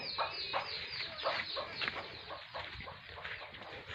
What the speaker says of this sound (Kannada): ನೋಡಿ ಕೋಳಿ ಮರಿಗಳು ಹೊಡೆದಿವೆ